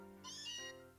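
Galarian Meowth's cry in Pokémon Scarlet, a single short rising-and-falling meow heard alone over faint game music.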